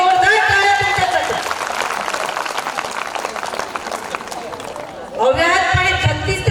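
An audience claps and cheers at a Haldi Kunku women's gathering, sustained applause under an amplified announcer's voice, swelling again loudly near the end.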